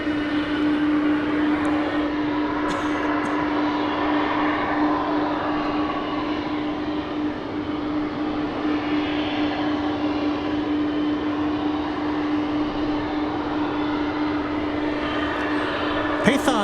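An American Airlines jet slowing on approach to runway 18R at DFW Airport at night gives off a steady, broad engine roar that holds for the whole stretch with a constant droning tone, while faint talk sits underneath.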